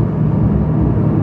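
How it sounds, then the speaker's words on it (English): Steady, loud low-pitched rumble of a Porsche 911 S/T cruising on a highway, its flat-six engine droning under broad tire roar from the road surface, continuous and close, with no talking. "we're getting a lot of tire noise"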